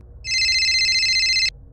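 A telephone rings once with a sharp, urgent electronic trill, a single bright burst of about a second and a quarter, close and clear over a quiet background.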